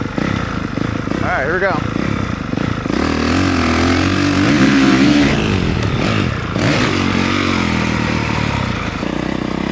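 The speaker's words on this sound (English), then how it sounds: "you're gonna hear the bike go high up in the RPMs as I'm sitting down, and it's gonna create a lot of pop" A dirt bike engine revs up to high RPM, rising and falling in pitch through the middle of the run-up to a jump, heard close and loud with someone talking over it.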